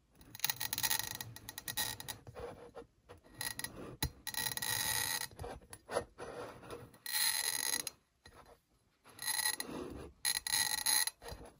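A glass cutter scores a line around a glass jar as it is slowly rotated by hand, making a close, crisp, gritty scratching in repeated ticking bursts broken by short silent gaps.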